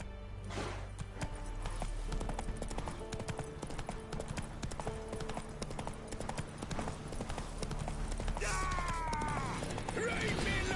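Horse hooves galloping in The Witcher 3, a steady clip-clop rhythm running throughout at moderate loudness, with brief game sounds and a voice near the end.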